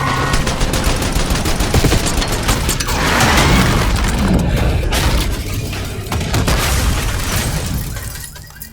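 Dense, loud gunfire in a Black Ops 6 campaign street fight against an approaching limo, with sustained automatic bursts, booms and shattering impacts layered over each other without pause.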